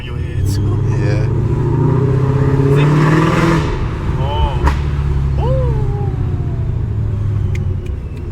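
A 700 hp Ford Mustang GT revs with a loud, near engine rumble and crackling exhaust pops, while people talk over it throughout.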